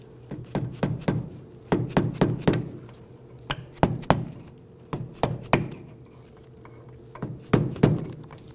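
A chisel tapping a bearing cap into a Ford Focus rear spindle, sharp metallic hammer strikes in uneven clusters, some quick doubles and triples, ringing close and clear.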